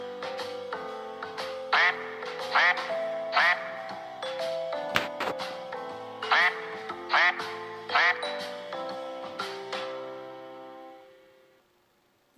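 Cartoonish duck quacks repeat in a rhythmic series over a tinkling musical backing, loud and close, then fade out near the end.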